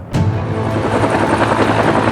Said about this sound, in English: we've utilized helicopters in some instances to fly people in and to fly materials in